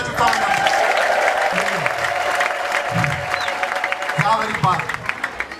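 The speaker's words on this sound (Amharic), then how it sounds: "እስኪ ደስ ያለው እልልታና ጭብጨባ" A church congregation at a deliverance service in Gondar claps steadily and loudly, with high trilling ululation rising over the applause and a sustained tone and voices running underneath throughout.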